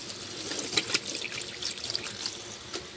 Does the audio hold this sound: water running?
yes